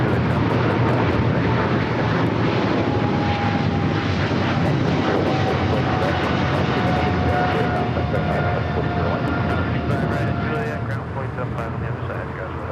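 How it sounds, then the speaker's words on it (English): A China Airlines Cargo jet takes off from LAX bound for Taipei, its engines a loud, broad roar that holds steady and fades slightly toward the end, with faint radio chatter clicking through. "China Airlines Cargo 5137 taking off to Taipei"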